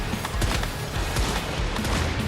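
Rapid gunfire from the survival shooter video game Once Human, a dense, steady stream of overlapping shots with heavy low booms running loud throughout, no talking.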